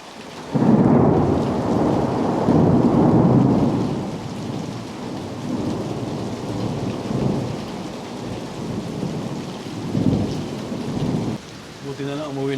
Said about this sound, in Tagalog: Ayan o, naulan na.